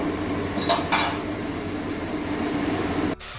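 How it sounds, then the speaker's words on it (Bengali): Spice paste for an egg-and-cauliflower fritter curry being stirred and fried in a pan, a steady low sizzle with a few metallic scrapes and clinks of a spoon against the pan, close and continuous, with no talking. "এবারে মশলাটাকে তেল ছাড়া অবধি"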